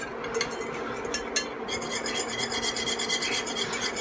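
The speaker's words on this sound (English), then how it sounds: "So I'm just whisking constantly while adding the flour and sugar." Whisk scraping steadily through flour and sugar in a frosting mixture in a bowl, a close, continuous rasping rub with a quick irregular rhythm and no talking.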